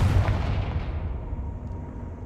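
Casting the Confringo explosion spell in the video game Hogwarts Legacy sets off a single heavy, booming blast that hits hard at the start, then rumbles and fades over about two seconds.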